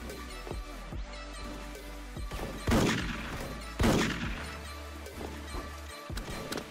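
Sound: gunfire in the video game Special Force

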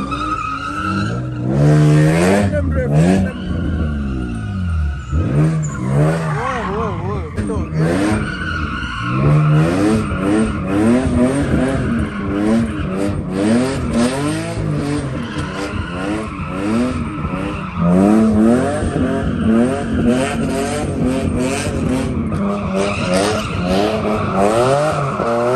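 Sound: Porsche Taycan doing donuts, tires skidding

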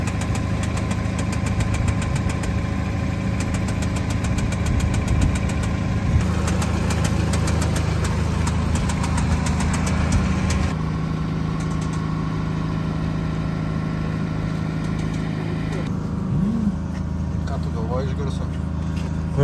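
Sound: BMW F30 328i engine idling unevenly

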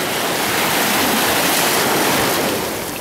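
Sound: waves breaking over black stones, Puerto Naos beach, La Palma

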